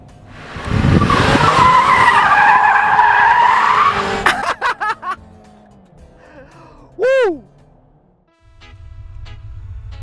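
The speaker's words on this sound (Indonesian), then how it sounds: "mudah saja melakukan drifting dengan mobil ini" A 2016 Jaguar XE, rear-wheel drive with traction control off in dynamic sport mode, drifts with a loud sustained tire skid and engine roar, then scattered squeals and chirps that fade toward quiet.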